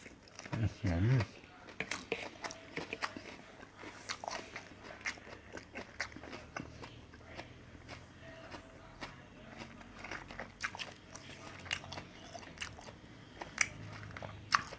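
Biting and chewing a crab stick salad roll dipped in sauce, close-up wet crunches and squishy chews repeating irregularly, with a voice talking over parts of it.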